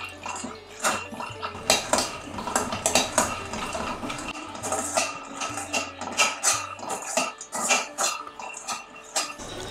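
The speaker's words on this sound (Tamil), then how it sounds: "அதுலேருந்து கொஞ்சம் எடுத்து போட்டு வறுக்கிறேன்" Raw peanuts dry-roasting in a pan while being stirred, with repeated scraping clinks of a metal spoon against the pan in an uneven rhythm, close and fairly loud, with faint kitchen noise behind.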